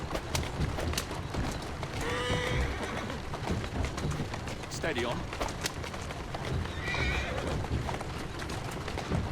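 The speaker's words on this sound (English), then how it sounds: "Who's a good horse?" Horse in the video game Assassin's Creed Syndicate: steady clip-clop of hooves on a street under continuous background noise, with two whinnies and someone speaking briefly.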